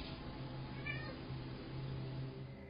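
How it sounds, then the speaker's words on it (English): A cat in a house by the kitchen gives a drawn-out, wavering meow or yowl that holds steady for a couple of seconds over faint room noise, with no talking. "To me, it seems like the cat's reacting to something heavy dropping onto the floor."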